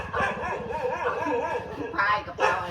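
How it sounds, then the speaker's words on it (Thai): A dog barks and yips in short bursts close by, mixed with a voice talking and whining sounds throughout. "ทำไมเห่าฉันล่ะไม่เคยเห็นฉันหรือไงเห่าฉันเหรอ"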